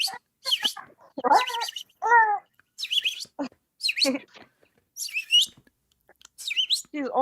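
A person imitating bird sounds for a baby, producing a series of sharp, high whistled chirps and trills in quick bursts with short pauses between them, close and clear.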